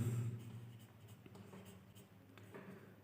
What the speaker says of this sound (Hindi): आइए इसको लिखते हैं।